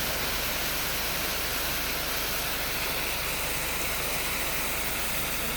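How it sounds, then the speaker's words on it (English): Fresh mountain water pours down a waterfall in a steady, dense broadband rush, constant and loud throughout with no pauses or voices. "It's a fresh water or waterfall with fresh water coming right down from the mountains."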